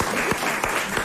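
Short burst of studio audience applause on a 1996 French TV game show, brisk clapping with a few sharper claps standing out, fairly close and loud, with no talking.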